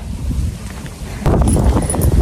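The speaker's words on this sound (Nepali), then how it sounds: "हावा चलेछ त्यस्तै पानी पर्न लागेछ" Wind blows outdoors around a home where goats are grazing before rain, a low rushing gust that grows suddenly louder halfway through and buffets the microphone.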